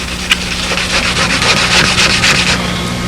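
Sandpaper rubs steadily across a doped aircraft fabric surface by hand, a close, continuous dry scratching with a quick tick near the start and no talking.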